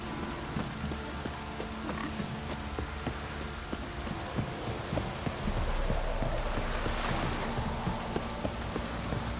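Steady rain in The Witcher 3: Wild Hunt, a dense continuous patter with scattered drips and a low rumble, swelling slightly midway, with no speech.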